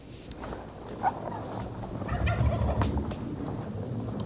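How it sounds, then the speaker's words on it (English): A turkey's rapid, rattling gobble rings out in the open air, fairly distant, amid faint outdoor background noise. "Sometimes it takes a challenging gobble to coax a response from turkeys nearby."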